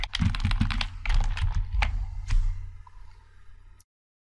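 Quick, clicky keystrokes on a computer keyboard, a burst of close taps in an uneven rhythm followed by a few spaced presses before silence.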